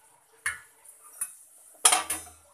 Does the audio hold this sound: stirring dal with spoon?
yes